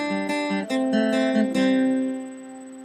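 Guitar chords strummed with a pick, a few quick downstrokes in a short rhythmic burst before the final chord rings out and fades, close and solo.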